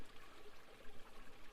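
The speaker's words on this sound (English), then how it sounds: "You touch the cool water with your fingertips." Faint, steady trickle of water at a waterfall on an island, a soft continuous wash with no voices.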